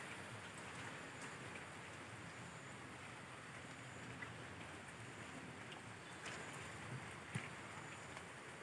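Faint light drizzle falling over farm fields, a soft, steady hiss of fine raindrops with a few slightly louder patters, continuous and even throughout.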